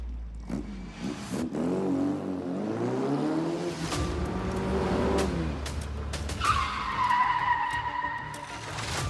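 Racing cars roar and accelerate with long, loud tire skids and squeals, the engine pitch sweeping up and down as they slide through turns, with no voices.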